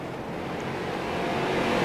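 Street stock race cars roar around the USA International Speedway oval, a broad continuous engine drone that swells gradually louder as the pack comes closer along the backstretch.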